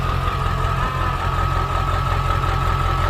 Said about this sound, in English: Oh, that good old diesel, man.